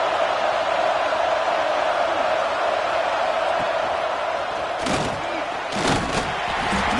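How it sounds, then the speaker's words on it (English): A fired-up crowd roars steadily at an Arkansas football stadium, a dense, continuous wash of cheering with a couple of sharper bursts of noise near the end. "this crowd is fired up. Listen to this noise here."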